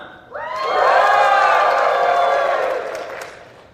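A convention panel audience at Phoenix Comic Con cheers, whoops and claps in a loud, sustained burst that swells quickly, holds for a couple of seconds and then fades.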